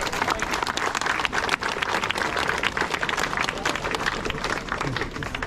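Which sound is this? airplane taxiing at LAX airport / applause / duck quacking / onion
applause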